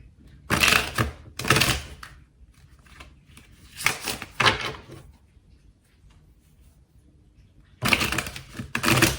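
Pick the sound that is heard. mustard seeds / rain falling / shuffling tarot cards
shuffling tarot cards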